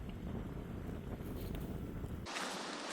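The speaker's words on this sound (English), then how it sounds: "we definitely have some wind coming on shore here." Onshore wind blows across the waterfront at Davids Island, a constant roaring buffet against the microphone that turns into a brighter hiss near the end, with no talking.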